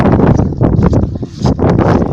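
A 2016 blizzard drives snow sideways, and loud gusts of wind batter the microphone in rough, uneven rushes close up.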